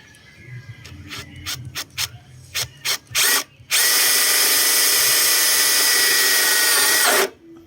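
A DeWalt power drill drives a screw while fixing daytime running lights, opening with several short separate bursts, then a steady loud whir of about three and a half seconds before it stops.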